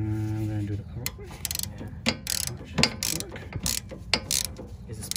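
A ratchet wrench spins a coilover nut, giving a series of quick clicking ratchet strokes in a steady rhythm, close and fairly loud.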